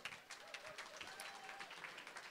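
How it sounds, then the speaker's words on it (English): Applause from the audience at a gala event, a faint but continuous patter of many hands clapping across the room, heard from a distance with no clear voices over it. "Let's give them one big round of applause."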